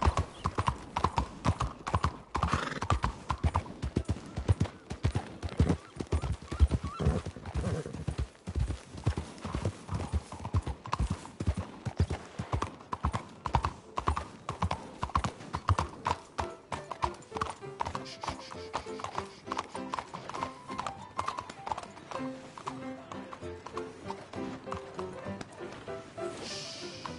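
A horse's hooves clip-clop in a steady, close, fairly loud rhythm for nearly half a minute, easing off toward the end, with a faint whinny and no talk.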